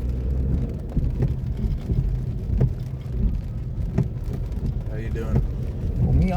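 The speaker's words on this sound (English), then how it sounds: "Enjoying this rain." Heavy rain drums steadily on a Chevy Malibu rideshare car in Houston, Texas, a dense constant wash over low road and cabin rumble, with brief voices in the car now and then.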